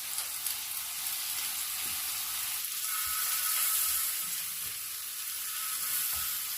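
Chicken for shawarma frying in a pan, a steady hiss of sizzling oil with faint occasional stirring clicks, close and continuous with no talking.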